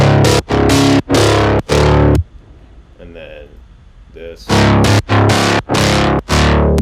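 Midtempo bass synth patch built in Serum and run through an audio effect rack: loud, distorted, buzzy stabs in a choppy rhythm, broken by a brief quieter gap where a voice speaks before the heavy bass hits return.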